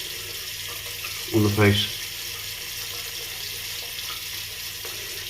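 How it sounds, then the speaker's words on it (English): A shaving brush knot is dipped into cold running tap water, giving a short splashy burst of water under a steady background hiss, with someone speaking briefly. "We'll dip the knot on the water"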